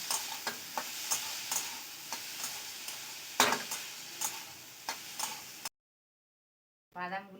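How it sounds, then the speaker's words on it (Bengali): A potato and onion filling fries on low heat in a pan, soft sizzling under a steady run of light spatula taps and scrapes, close and moderately loud, then cuts to silence and a brief voice. "এবারে আলু পেঁয়াজের পুরটাকে লো টু লো ভালো করে ভেজে নিচ্ছি"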